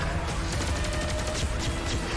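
Rapid bursts of gunfire from a Destiny 2 game trailer crackle continuously over a dense, rumbling backdrop, like a sustained fusillade with no pauses.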